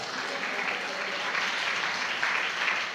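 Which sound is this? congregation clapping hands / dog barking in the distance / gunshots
congregation clapping hands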